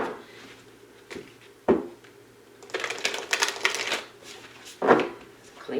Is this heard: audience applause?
no